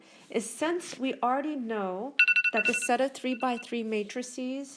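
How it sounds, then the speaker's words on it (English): An alarm goes off during a linear algebra lecture: a short burst of rapid, evenly spaced high beeps, clearly audible beneath a man's continuous speech. "that was my alarm, sorry."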